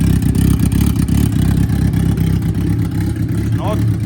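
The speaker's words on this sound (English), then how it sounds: "As you can hear, she's idling." An engine idles steadily with a continuous low rumble while spitting water, loud and close throughout.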